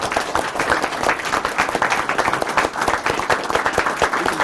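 A meeting room crowd at a city commission session applauds schoolchildren, with dense, steady clapping from many hands that carries evenly from start to finish without talk.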